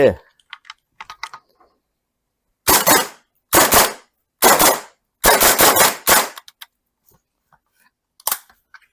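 Gas blowback airsoft rifle fired in semi-auto, a series of sharp, loud single pops in quick clusters of two to four, separated by short silences, with faint handling clicks between.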